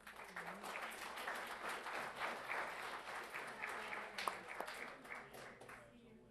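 Applause from a crowd at a public governing board meeting, steady and fairly far off, lasting the whole stretch with some voices mixed in.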